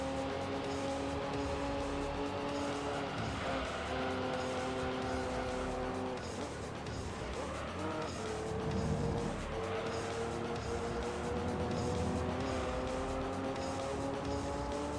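Engine of the LMP Dragon prototype race car in Gran Turismo 3, a steady high-pitched drone rising through the gears with shifts, loud and continuous across a fast lap, with brief tire noise midway.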